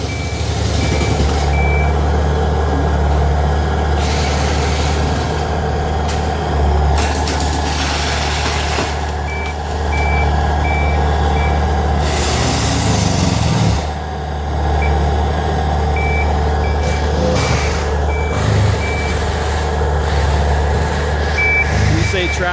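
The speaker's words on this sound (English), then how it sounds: "It's a tractor." Tractor engine running steadily outdoors during tree cutting, with repeated reversing beeps sounding on and off over a constant low engine drone; people talk intermittently nearby.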